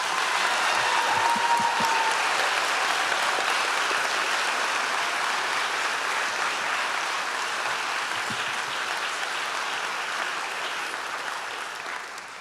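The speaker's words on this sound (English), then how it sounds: "could we give them all a round of applause?" An audience at a school district board meeting applauds students being recognized, a sustained wash of clapping that holds steady and slowly fades toward the end, with no talk over it.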